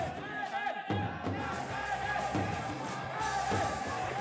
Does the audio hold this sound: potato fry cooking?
no